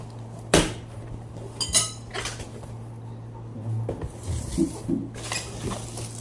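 Metal pots clank and knock now and then as they are handled, with rustling and a low steady hum in the background.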